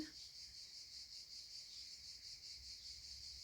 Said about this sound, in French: on entend les cigales?